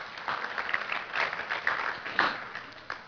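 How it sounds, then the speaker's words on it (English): A church congregation claps its hands in praise, a scattered but lively round of clapping with uneven bursts, rising and falling over a few seconds and fairly moderate in level. "give him a hand clap of praise for that"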